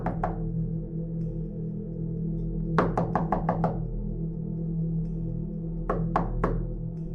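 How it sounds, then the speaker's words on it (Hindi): Loud, hard knocks pound on a door in quick bursts: a pair, then a rapid run of about six, then three more, each sharp and close over a steady low background hum. "किसी ने दरवाजे को जोर जोर से खटखटाना शुरू कर दिया"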